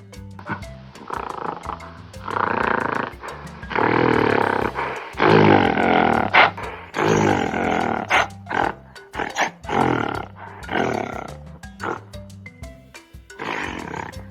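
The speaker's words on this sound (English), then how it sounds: "Gorilla." A gorilla lets out a series of loud, rough roars and grunts in bursts, close and forceful, with short gaps between them and no talking.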